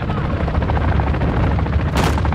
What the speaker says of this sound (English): Cargo helo is en route to the AO.